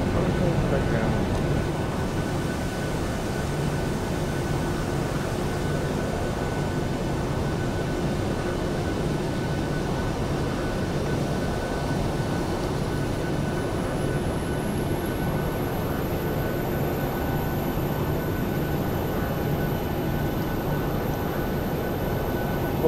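In a PMDG 737-800 flight simulator, the jet engines produce a steady, loud roar during the takeoff roll, and a rising whine appears late in the clip.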